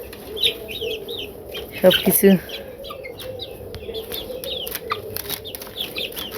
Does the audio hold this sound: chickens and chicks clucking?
yes